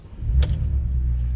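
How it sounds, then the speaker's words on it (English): A Volkswagen W8 with a six-speed and Remus exhaust cranks briefly and fires into a deep, loud low rumble that settles into a steady idle, all over barely a second. "first thing that I notice whenever you start this car is it almost makes that torquey, underdriven, like V12 German car kind of noise whenever you start it"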